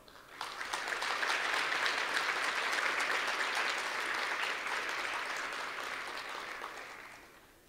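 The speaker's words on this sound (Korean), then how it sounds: "졸업생 여러분, 다시 한번 힘찬 박수 부탁드립니다." A large audience applauds at a KAIST graduation ceremony, a sustained, even wash of many hands clapping that swells quickly, holds steady for several seconds and then fades, with no talking.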